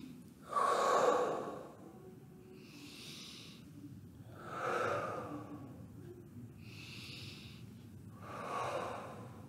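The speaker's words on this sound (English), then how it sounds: "We're gonna take deep breaths." Three slow, deep breaths in a calming exercise, each a long airy inhale and exhale, close and clear, with steady quiet gaps between them.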